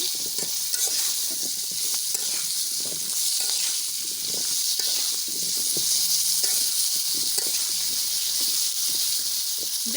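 Steady, loud sizzling of salted potatoes frying in oil, a continuous hiss with crackles and occasional stirring scrapes, close by.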